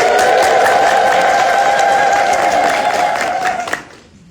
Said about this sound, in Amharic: በመጀመሪያ እልል ብላችሁ ብታመሰግኑልኝ ደስ ይላል።